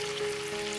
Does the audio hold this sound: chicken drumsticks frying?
yes